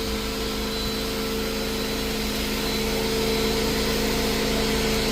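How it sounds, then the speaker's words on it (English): A household vacuum cleaner runs steadily throughout while a carpet is being cleaned, giving a loud, constant drone with a piercing high-pitched whine layered on top. "I don't know if you guys can hear that high pitch. That's my my vacuum"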